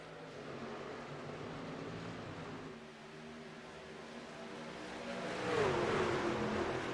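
Race trucks on the Chicagoland Speedway oval give a dense, fairly faint engine roar that swells and rises in pitch toward the end as they accelerate together.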